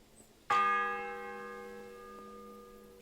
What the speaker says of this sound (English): The 6th bell. Half the time is up.